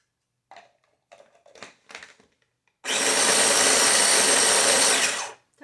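A food processor chops diced bologna for a salad, whirring loudly and steadily for about three seconds after a few faint clatters of the pieces being loaded.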